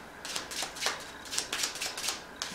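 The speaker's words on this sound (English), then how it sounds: "Mix all the cards up." A deck of playing cards shuffled by hand, a rapid train of close, crisp riffling flutters and slaps with no talking.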